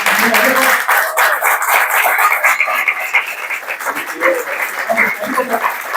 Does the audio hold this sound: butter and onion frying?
no